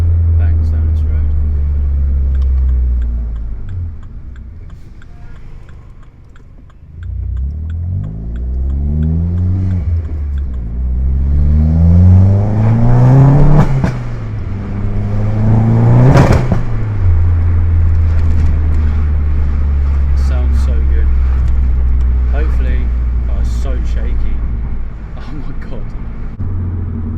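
Vauxhall VXR car engine rumbling steadily up close, with rising and falling revs as it accelerates through the gears, a sharp high rev burst near the middle, then settling back to a steady drone.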